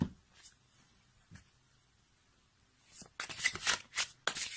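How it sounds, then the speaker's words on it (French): Oracle cards for a tarot reading being shuffled by hand, soft riffling at first and then louder, quick papery bursts close by, with no talking. "on va compléter notre tirage avec les licornes magiques de Dorine Virtue"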